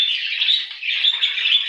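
A six-month-old male budgerigar in a home breeding cage chirps in a quick, continuous warble of bright, close twittering notes with no voices over it.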